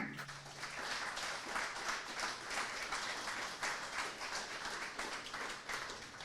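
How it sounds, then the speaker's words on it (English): A round of applause from a conference audience at a tech event, moderate and steady clapping lasting several seconds with no talk over it. "round of applause for Amos King."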